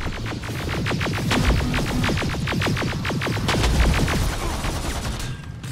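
Rapid gunfire in the Terminator Resistance video game, dense volleys of shots rattling out in quick bursts, loud and continuous with booming low rumble underneath.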